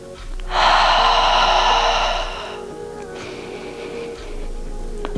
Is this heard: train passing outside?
no